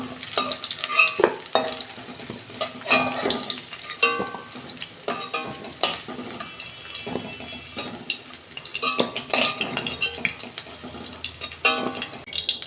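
Fried potato pieces being lifted out of hot oil while cooking a potato and prawn dish, with near, steady sizzling and bubbling plus repeated scraping and clinking of a utensil at the pan.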